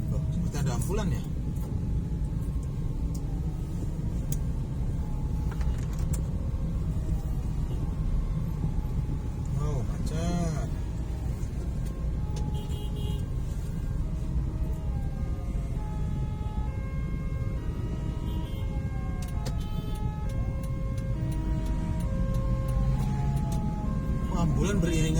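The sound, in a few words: ambulance siren passing in street traffic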